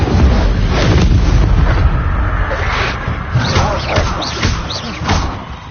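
Incendio fire spells cast in Hogwarts Legacy erupt as repeated loud, bursting blasts with thuddy impacts, layered over continuous dense game sound.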